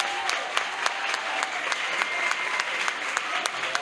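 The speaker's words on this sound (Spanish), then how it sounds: "un gran aplauso de parte del alumnado del Instituto Las" Students at a secondary school, Instituto Las Viñas, applaud together, a steady crowd of clapping hands with a few louder, rhythmic claps standing out at regular intervals.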